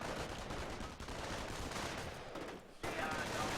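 Rifle fire in Company of Heroes, a World War II real-time strategy game, crackling as steady dense gunfire through the whole stretch with a brief dip near the end. Commentary voices can be heard in the background.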